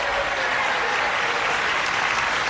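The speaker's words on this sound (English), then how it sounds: "join me in a big round of applause for Joe Hecht and Desiree Rohr" A game show studio audience breaks into sustained applause, a thick, continuous roar of clapping that stays loud and even for a couple of seconds.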